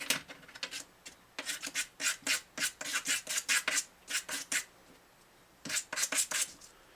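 Bone guitar saddle being smoothed along its edges, close sharp rasping strokes in quick rhythmic bursts with a short pause before a final run of strokes.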